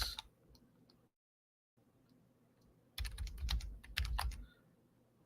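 Computer keyboard typing, first a few quiet scattered keystrokes, then a short gap of silence, then a louder, faster burst of close clicks, with no voices.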